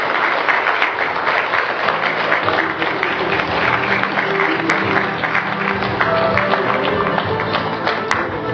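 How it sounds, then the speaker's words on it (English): Loud, sustained applause from a large audience at an awards ceremony for a winner. The clapping is dense and even throughout, with some crowd murmur and faint voices underneath. "Let's give him a huge round of applause."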